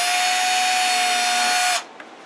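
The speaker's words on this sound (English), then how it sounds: "it's drilling a perfect hole right all the way through" A small high-pitched rotary drill bores through plastic on a 1:200 RMS Titanic model, a steady close whine that runs for nearly two seconds and then stops sharply, leaving near silence.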